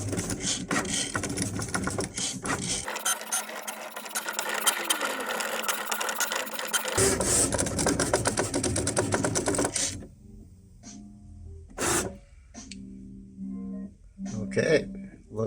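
A Cricut Maker 3 cutting machine runs a cut, its motor and carriage whirring and ratcheting steadily and close for about ten seconds before stopping, followed by a few faint clicks and some quiet speech.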